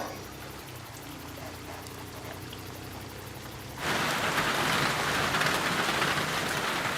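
Heavy tropical rainstorm in a jungle, a steady broadband hiss that surges sharply louder partway through as the downpour intensifies, with dense rain pounding on foliage and surfaces and no voices.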